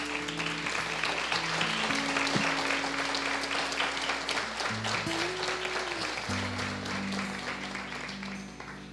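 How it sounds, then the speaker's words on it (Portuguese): An audience at a religious gathering applauds in a dense, steady patter, with sustained keyboard-like tones running underneath throughout. "E é 2 vezes isso aqui para aplaudir"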